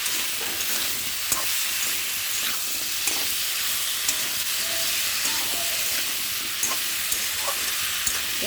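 Shrimp with taro and potato sautéing in a pan with turmeric for a curry, giving a loud, constant close sizzle with occasional faint stirring clicks and no talking.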